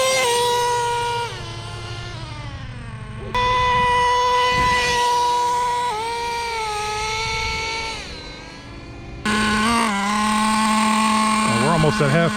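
A Traxxas T-Maxx 3.3 nitro RC truck engine runs loud and high-pitched, its whine rising and falling as the truck makes several passes, cutting out and restarting between runs.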